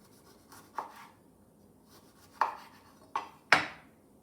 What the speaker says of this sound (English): Give it a rough little chop.